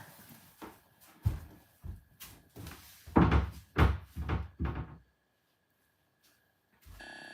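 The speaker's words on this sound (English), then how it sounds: "I need to close that door" An indoor door is pushed shut, with a run of knocks, clunks and thumps from the door and its frame, then a short silence and one final soft thud.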